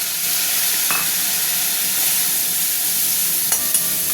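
Tomatoes tossed into a sizzling pot of khichuri, a dense steady hiss of hot oil and steam close by, with a couple of faint clinks and stirring touches, no voices.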